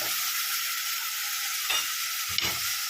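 Tomatoes sautéing in a pan produce a constant, close frying sizzle, with two brief stirring scrapes toward the end.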